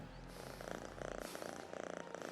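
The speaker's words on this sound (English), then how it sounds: "I didn't mean to pet the cat," Soft, rhythmic cat purring in Assassin's Creed Mirage as the cat is petted, faint pulsing breaths heard close up against a low game ambience, with no talking.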